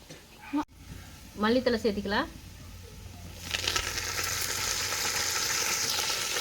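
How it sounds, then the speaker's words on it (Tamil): Mint and coriander leaves dropped into frying biryani masala in a pan: a brief voice and clatter give way after a few seconds to a rising, steady sizzle that continues close and moderately loud to the end. "சரி, அடுத்து புதினா தலையெல்லாம் சேர்த்திக்கலாம்."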